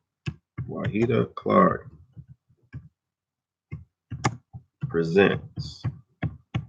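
Fingers tap to type on a touchscreen, making small, sparse, sharp clicks in the pauses between a person's speech and partly under it.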